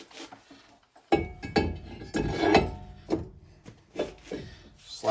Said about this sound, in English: Slide our rotor back on there.